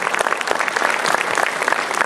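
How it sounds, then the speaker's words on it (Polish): Audience applause at a New Year concert fills the hall, a dense, steady clatter of many hands clapping close and loud throughout. "Dziękuję państwu także za oklaski."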